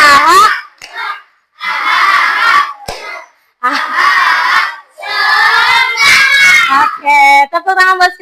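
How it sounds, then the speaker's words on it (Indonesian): A classroom of children claps and chants together in loud bursts separated by brief pauses, with their shouting voices mixed into the clapping. "tepuk tangan buat kita semua"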